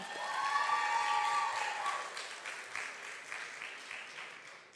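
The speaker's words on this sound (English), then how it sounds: "Give yourself a round of applause" A round of applause from the audience at the World of Work Showcase 2019, congratulating Ellerslie: thick crowd clapping that starts strong, holds, then slowly thins and fades, with a brief voice or tone at the start.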